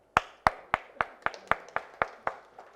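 Slow, evenly spaced claps, about ten in a row, sharp and close by, each ringing briefly in a hall, with no talking over them, welcoming a guest at a Pro Kabaddi event.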